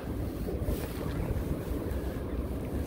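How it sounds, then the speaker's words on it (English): Steady wind roars across the microphone while fly fishing on a wet day, a constant loud low rumble with buffeting gusts and a faint watery wash underneath, no voices. "The wind's blowing right into me."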